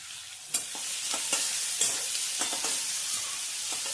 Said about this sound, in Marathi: आता मिरची परतून घेऊ.